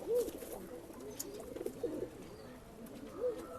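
Pigeons cooing at a pigeon sale in RT Nagar, several soft, throaty coos rising and falling close by, with a few louder bursts near the start and end.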